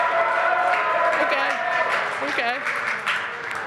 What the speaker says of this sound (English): Now, I want a crowd reaction. Let's hear it for the Minneapolis Magic.